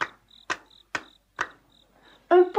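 A cricket hidden in flowering grass gives a series of sharp, evenly spaced chirps with a faint thin trill between them, ending in a louder, rougher burst.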